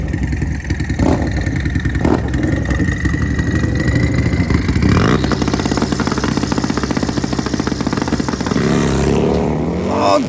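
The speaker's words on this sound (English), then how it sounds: "320 horsepower Harley-Davidson Road King, turbocharged." A turbocharged 320-horsepower Harley-Davidson Road King launches down a drag strip at night, its engine roaring loud and steady before a sharp rising pull around the midpoint that holds through the pass.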